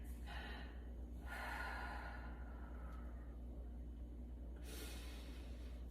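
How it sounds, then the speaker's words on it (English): Diaphragmatic breathing during a pelvic floor exercise, with a few soft inhales and exhales of airy noise over a steady low hum, moderately close and without speech. "So when you inhale, release. Exhale, engage."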